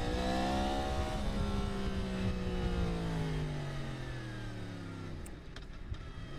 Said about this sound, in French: Le freinage, on va voir le freinage parce que j'ai personne derrière moi là.